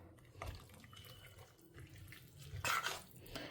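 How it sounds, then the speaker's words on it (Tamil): Water is poured into an eggplant and chickpea kootu in a home kitchen, a faint, trickling splash that swells into a brief louder gush near the end. "கொஞ்சம் ஜலம் குத்தின்ட்டேன்"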